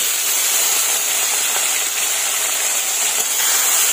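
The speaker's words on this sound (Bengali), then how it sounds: "চিংড়ি মাছটা ভেজে নেব।" Shrimp frying in hot oil with panch phoron spices and two bay leaves in a village kitchen, giving a loud, steady, hissing sizzle that runs unbroken throughout with no talking.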